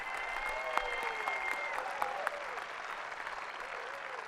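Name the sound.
applause at a graduation ceremony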